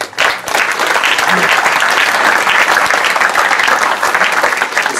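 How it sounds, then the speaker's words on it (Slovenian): Big round of applause from an audience for a full ensemble of folk singers and musicians at a memorial plaque unveiling, dense steady clapping filling the whole stretch, loud and close, with no talk over it. "vseh godcev, dajte en velik aplavz."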